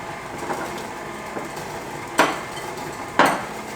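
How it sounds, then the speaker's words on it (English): A whisk stirs dry cookie ingredients, including flour, in a bowl for oatmeal pumpkin spice cookies. It makes a soft, steady scraping with a few sharper clinks against the bowl, close and fairly quiet. "we'll take a whisk and we'll just kind of mix in all these dry ingredients"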